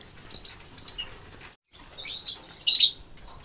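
Lovebirds chirping as they are moved into a box cage: scattered high tweets at first, a brief pause, then a louder cluster of sharp chirps near the end.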